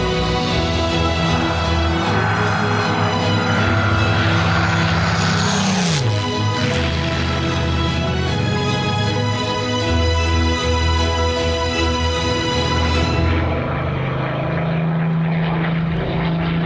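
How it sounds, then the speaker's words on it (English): Spitfire and Lancaster propeller aircraft flying by, a loud continuous engine drone with a sharp pitch drop as they pass overhead, then the sound thins as they recede. "No other two aircraft quite stir the blood in the same way as the Spit and the Lank."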